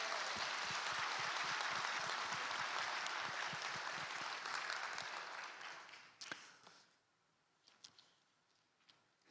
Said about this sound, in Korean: 우리 하나님께 박수 한번 올려드릴까요?